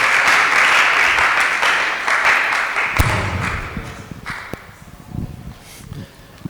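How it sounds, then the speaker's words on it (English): Audience at a school renewable energy challenge event in Ghana claps to welcome a keynote speaker, a loud dense burst of applause that fades over several seconds into scattered claps and movement noise. "Let's welcome him to give us the keynote address with a clap of."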